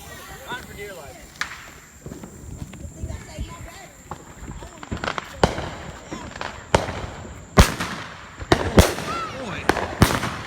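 A Yellow Rose of Texas 500-gram firework cake by Big Thunder Fireworks launches a run of shots. Sharp, loud bursts come unevenly and grow denser toward the end, with people talking and exclaiming over them outdoors.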